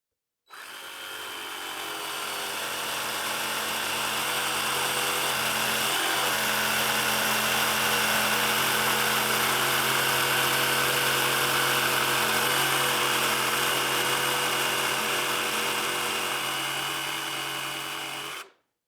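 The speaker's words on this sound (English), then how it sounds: "we'll break this down at the bandsaw and with the jigsaw" A bandsaw or jigsaw cuts through rough lumber in a woodworking shop with a continuous, even whine and hum. It runs steadily for about seventeen seconds, then shuts off.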